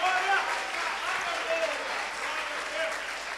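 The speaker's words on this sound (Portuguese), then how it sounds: "Você consegue aplaudir ao Senhor pela sua palavra agora?" A church congregation applauds together in a steady, sustained wash of clapping that fills the room at an even level from start to finish.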